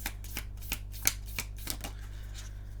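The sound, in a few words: tarot cards being shuffled and drawn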